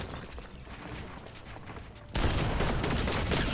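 Video game shotgun fire: scattered muffled shots and clatter in the first half, then a sudden louder, dense burst of blasts and noise that continues to the end.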